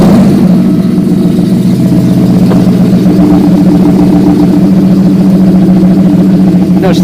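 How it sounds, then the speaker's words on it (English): Porsche 928 engine idling steadily in a garage, a continuous low rumble with a slight rev partway through, close by with speech underneath. "But it'll go up a little quicker if we start up the car."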